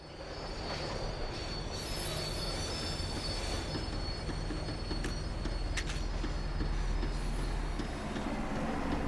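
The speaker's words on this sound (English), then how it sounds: "The tram was slowing down, and I'd only just gotten on board." Steady rumble and squeal of a tram slowing down in the video game Max Payne 3, continuous rolling wheel noise with high metallic squealing, loud and close, with no talking.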